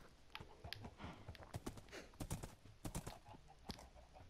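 Horse in the video game Minecraft, quiet clip-clop hoofbeats in an irregular trotting rhythm with a few louder hoof impacts, faint and close with no talking.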